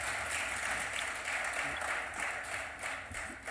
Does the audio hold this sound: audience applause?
yes